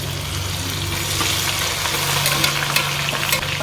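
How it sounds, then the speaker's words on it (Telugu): Ginger-garlic-coriander masala paste for crab curry frying in hot oil, a loud, steady, close sizzle over a low hum, with no talking. "ఈ ముద్దను ఇప్పుడు ఆయిల్లో వేసేసి వేయించేద్దాం."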